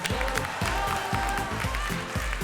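An audience at a 2016 Greens campaign launch applauds in a dense, sustained burst of hand clapping, steady and fairly close, with no talk over it.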